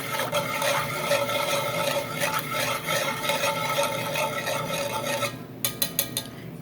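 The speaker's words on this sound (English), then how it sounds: "And we'll just whisk it around a little bit." Brown sugar and milk are whisked together in a pot while making chai tea, giving a steady scraping, swishing stir that runs continuously at close range, then ends in a few sharp taps of the whisk against the rim.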